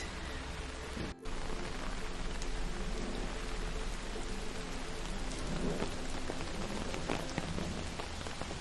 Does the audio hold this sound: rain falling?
yes